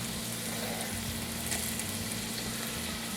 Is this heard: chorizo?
yes